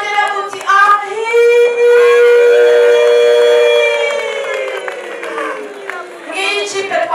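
Wedding guests ululate and cheer for the bride: a loud, sustained high trilling cry rises and holds for several seconds over crowd noise and scattered clapping.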